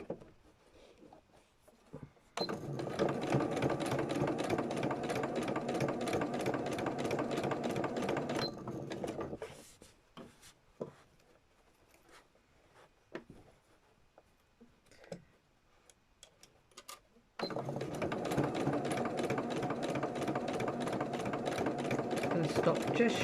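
A sewing machine stitches fabric in two sustained, close runs, each a few seconds long, with a rapid even needle chatter. Between the runs, quieter clicks and handling sounds fill a pause where someone talks.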